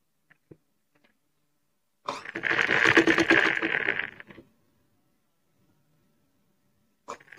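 A sewing machine runs a straight seam along the folded casing of a bolster pillow cover, a steady fast whir of stitching lasting about two seconds, with brief faint clicks before and after.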